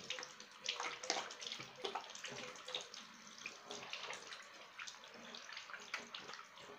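Tap water runs steadily into a sink while someone rinses their face, a continuous soft splashing stream with small irregular spatters, close but quiet.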